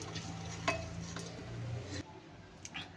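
Coriander powder masala being sautéed in oil in a pan, with faint sizzling, a few metal spoon scrapes and clinks against the pan, and a low hum underneath.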